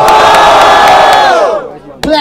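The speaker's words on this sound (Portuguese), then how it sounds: "Barulho para os rimas de Mineiro" A loud crowd at a Brazilian rap battle in Barueri roars, cheers and shouts together in a sustained swell that fades before a fresh burst of yelling.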